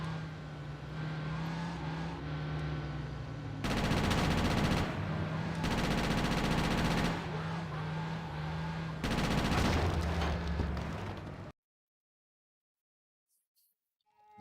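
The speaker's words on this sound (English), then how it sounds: "I might need to use the rest of my submachine gun ammo here." Submachine gun fire in GTA: Chinatown Wars: three loud sustained bursts of rapid automatic shots, each lasting a couple of seconds, over steady game engine and traffic noise, then sudden near silence.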